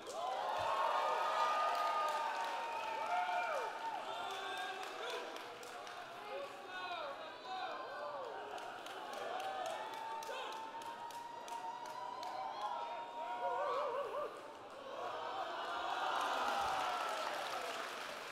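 A crowd cheers at a sumo match at JapanFest in Georgia, with applause and shouts rising and falling around someone talking over the noise, scattered claps spiking through.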